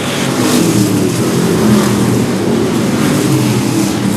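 Street stock race cars at Seekonk Speedway accelerate hard out of a corner at the start, a loud, continuous roar of several engines revving together.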